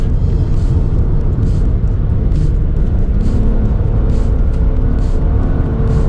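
Acura Type S car engine, a loud, continuous close-up rumble holding steady throughout with no clear rise in pitch, no talking.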